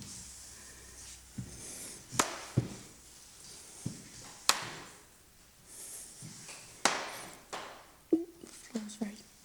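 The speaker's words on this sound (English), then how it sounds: "The floor's very creaky." Old wooden floorboards in a farmhouse creak and knock underfoot as someone walks through the rooms, a series of sharp irregular creaks and thumps with quiet talk in between.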